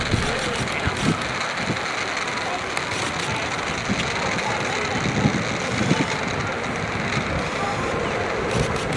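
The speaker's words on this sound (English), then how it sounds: "So we can see that rocket engine firing away, heading towards the sky." A rocket engine fires during a launch, watched from SeaWorld Orlando in Florida: a steady, distant broadband roar mixed with wind noise that runs throughout with little change in level.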